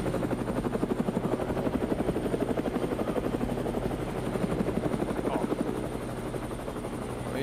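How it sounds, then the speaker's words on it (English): Helicopter in a video game flying overhead, a steady loud rotor chop with a pulsing rhythm that runs throughout, with faint gunfire-like game sounds beneath. "You're flying that helicopter slow."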